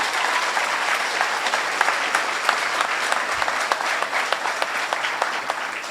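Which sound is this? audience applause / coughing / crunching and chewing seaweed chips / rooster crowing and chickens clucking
audience applause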